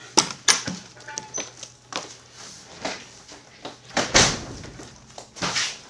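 A door is shut and locked in a building compound: a series of sharp clacks, latch clicks and knocks spread through a few seconds, fairly close and loud against a quiet background.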